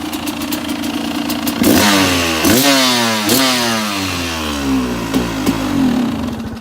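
A 2002 KTM 200 EXC two-stroke dirt bike engine runs loud and close, idling then revving sharply in repeated bursts with rising and falling pitch, settling back between blips.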